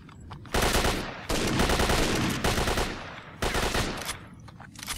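Loud, repeated gunfire bursts from a shotgun in the video game Stalker: Shadow of Chernobyl, several dense blasts back to back with brief gaps, close and filling the mix.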